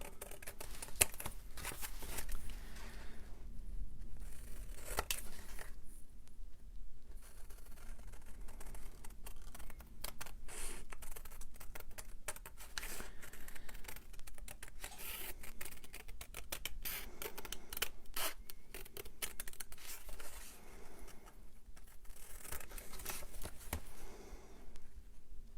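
Scissors cut out a folded semicircular piece of material with steady, close snipping and crisp rustling that continues throughout, at a fairly even level without pauses.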